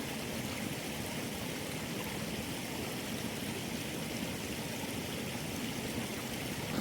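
Stream water flowing steadily at a goldfield prospecting spot, a soft continuous babble and trickle, even and faint, with no talking over it.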